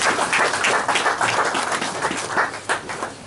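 Congregational applause at a church service, a dense steady clapping with cheering that fills the whole stretch at moderate loudness, close and continuous.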